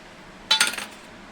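A spoon mixes shredded cabbage with cornflour and maida in a bowl for Manchurian, giving a short, bright run of close metallic clinks in an otherwise quiet moment.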